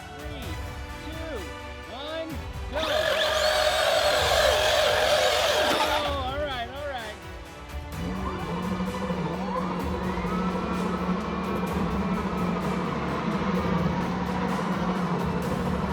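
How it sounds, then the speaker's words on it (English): Traxxas Rustler and Arrma Vorteks RC trucks drag racing, electric motors whining up in rising pitch sweeps with tire scrabble, a loud burst midway, then a sustained high motor hum, fairly close. "enjoy these drag races and tug-of-wars between the Rustler and Vortex using the stock out-of-the-box gearing"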